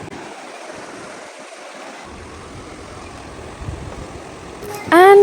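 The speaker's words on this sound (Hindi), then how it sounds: "साइड में बह रही है नदी" A river flows beside the road at Zojila Pass in Kashmir, its broad steady rush filling the scene, with a sudden louder whistling sound breaking in at the very end.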